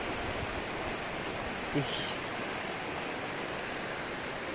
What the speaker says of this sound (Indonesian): Nah, ini ada sungai ya.